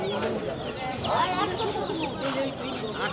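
Chickens cluck and squawk among ducks and pigeons at a busy rural livestock market in Nawabganj, with vendors and buyers talking continuously over the birds at close range.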